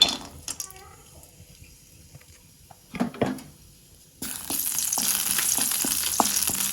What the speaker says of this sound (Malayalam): ചട്ടി നല്ലോണം ചൂടായിരുന്നു കേട്ടോ നമ്മൾ കുറച്ച് അണ്ടിപ്പരിപ്പ് ഇട്ട് കൊടുക്കാം